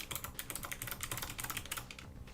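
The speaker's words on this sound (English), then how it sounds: "you get to hear me go clickety-clack while I set up the wheel" Rapid clicking of a computer keyboard being typed on, close and continuous, with dense irregular keystrokes throughout and no voices.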